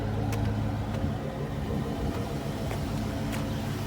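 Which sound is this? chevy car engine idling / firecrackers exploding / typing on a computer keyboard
chevy car engine idling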